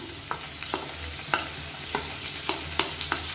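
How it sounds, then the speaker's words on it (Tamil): Finely chopped onion and two green chillies sautéing in a pan: a constant sizzle with regular scraping stir strokes, each one a short sharp scrape, close and moderately loud with no speech. "வெங்காயம் நல்லா வதங்கணும்"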